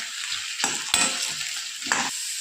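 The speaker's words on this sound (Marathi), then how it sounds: "आलू छान आपल्याला फ्राय करून घ्यायचे आहे" Potato pieces frying in hot oil in a pan, a constant close sizzle broken by a few sharp scraping stirs and clinks of a spatula against the pan.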